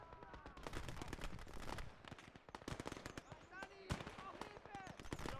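Rapid .50 cal machine gun fire from a Super Pershing tank in the Gates of Hell game, dense crackling bursts of shots with a few louder reports, faint and mixed with speech.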